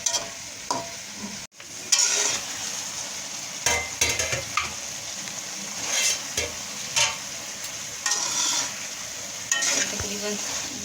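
Ingredients for Chinese biryani fry and are stirred in a pan, giving a steady sizzle with irregular scraping strokes, moderately quiet and with no voices.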